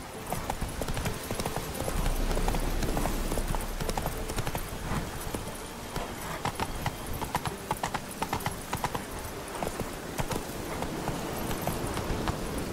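Horse hooves clip-clop in a fast, steady gallop in The Witcher 3, with a neigh or whinny along the way and music or game sound running continuously underneath.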